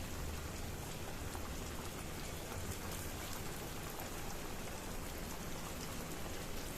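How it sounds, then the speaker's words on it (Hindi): Vegetable spring rolls fry in hot oil, giving a steady, dense sizzle and crackle that holds at an even level throughout. "बाकी बचे हुए भी मैं इसमें सेकने को डाल दूंगी फ्राई होने के लिए"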